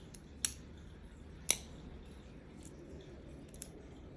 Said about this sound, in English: I can actually flick it out